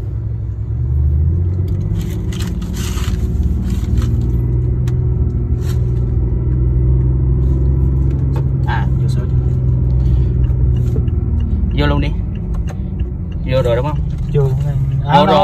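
A 2015 BMW i8 with its 1.5L engine rumbles steadily at close range while being driven, a continuous low drone under people talking throughout.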